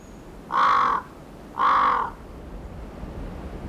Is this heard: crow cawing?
yes